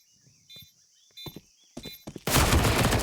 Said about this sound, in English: MP9 quickly in with a headshot